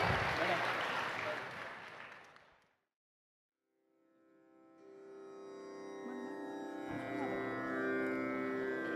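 Audience applause at a devotional music performance by a music school during the 62nd Bengaluru Ganesh Utsav: loud, dense clapping for about two and a half seconds that fades to silence before music begins.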